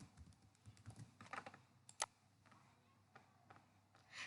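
Quiet, close keystrokes tap on a computer keyboard in short irregular bursts, with one sharper click partway through.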